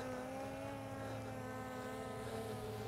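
A Skydio 2 drone hovers and tracks nearby, its propellers producing a steady, even buzzing drone with layered tonal whine throughout, fairly faint and constant.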